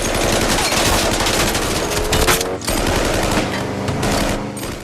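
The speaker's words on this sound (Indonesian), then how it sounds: "mereka langsung membrutal dan menembaki semua polisi yang ada" Loud bursts of rapid machine-gun fire erupt during a shootout with police, continuous and dense with a brief gap near the middle before the firing resumes.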